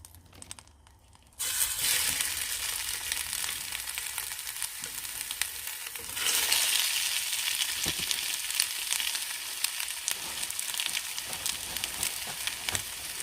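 Food sizzles and fries steadily in a pan outdoors beside a van at a wild campsite, a dense crackling hiss that starts after a quiet second and swells louder midway.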